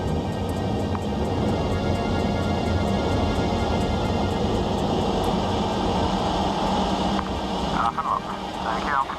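Concorde's engines roar as a continuous loud, broad rumble inside the cockpit during the climb after takeoff. The sound holds steady throughout, with a faint tonal flutter near the end.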